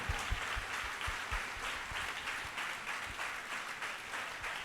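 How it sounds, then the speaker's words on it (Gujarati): A church congregation claps loudly and steadily together in worship, a dense, sustained wash of many hands with no talking over it. "જોરદાર તાળીઓ પાડીએ."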